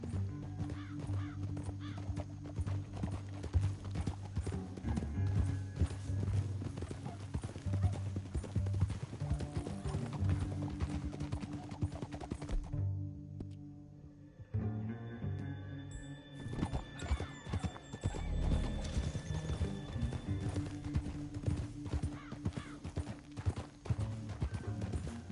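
Horses gallop in the video game Red Dead Redemption 2, with continuous rhythmic hoofbeats loud and close, a whinny, and a brief lull midway before the galloping resumes over a game soundtrack.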